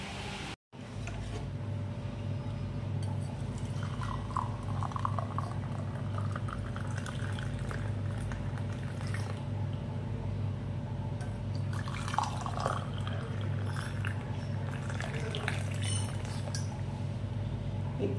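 Tea being made in a home kitchen: a steady simmer of water under bursts of pouring, dripping and light clinks of cups or utensils, continuing without break for the whole stretch with some background noise.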